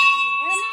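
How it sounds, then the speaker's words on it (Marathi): Temple bells ring at a village fair in Sindhudurg, a bright sustained metallic tone with lingering overtones over a short moment, with a voice briefly audible in the background. "घंट्या बांधल्या तिकडे."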